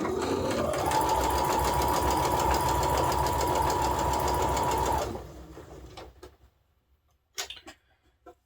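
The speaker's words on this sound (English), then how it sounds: "we're just going to sew just a stitch above that triangle" A sewing machine stitches fabric in a fast, steady whirring run for about five seconds, then stops, followed by a few soft clicks and handling sounds.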